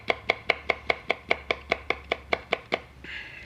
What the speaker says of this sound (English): A little bit of chilli first, just some slices.